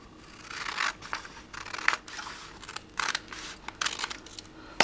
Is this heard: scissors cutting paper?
yes